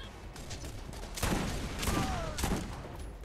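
Shotgun fire in the video game Borderlands, a few sharp blasts over a steady noisy background, moderately loud and spaced about a second apart.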